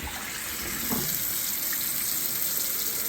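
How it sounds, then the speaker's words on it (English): Water runs steadily from a tap into a clogged kitchen sink, a constant hissing rush at low level with a brief gurgle near the start and no talking. "I don't want a whole sink full of water backing up."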